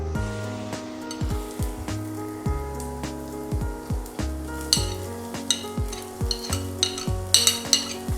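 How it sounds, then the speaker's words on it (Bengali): Chopped garlic and ginger sizzle in hot oil for mixed Chinese vegetables while being stirred, giving a constant crackling fry with repeated scraping strokes of a spoon against the pan, close and fairly loud. "তেল গরম হয়ে গেছে। এই পর্যায়ে যেটা আমি করব, আমি প্রথমে রসুন কুচি আর আদা কুচিটা দিয়ে দিচ্ছি।"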